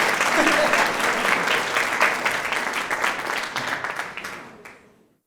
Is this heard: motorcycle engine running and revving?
no